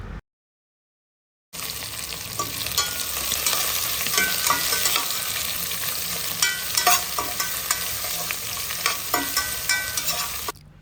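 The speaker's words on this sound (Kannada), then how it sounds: "ಈರುಳ್ಳಿ ಒಂಥರ ಡಾರ್ಕ್ ಬ್ರೌನ್ ಬರೋ ತನಕ ಫ್ರೈ ಮಾಡ್ಕೊಬೇಕು." Medium-size onions fry with whole spices in a pan for chicken biryani, cooking until dark brown. After a brief silence, a loud steady sizzle runs throughout, broken by repeated scraping and clinking of stirring.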